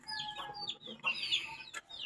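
Chickens cluck nearby at a house close to Mayon volcano, a few short, moderately loud calls and clucks in quick succession with no talk.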